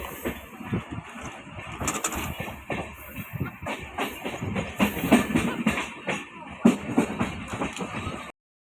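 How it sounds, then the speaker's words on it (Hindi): The Maharashtra Express passenger train runs on rails between Nagpur and Pune in the monsoon season, with a steady rumble, rattle and clickety-clack heard from inside a carriage, growing busier toward the end before cutting off abruptly. "ये काफ़ी अच्छी ट्रेन है विदर्भ और मराठवाड़ा को जोड़ने के लिए"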